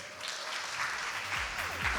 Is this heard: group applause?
yes